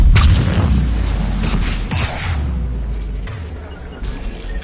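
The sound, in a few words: anti-aircraft guns firing in the video game Mass Effect 3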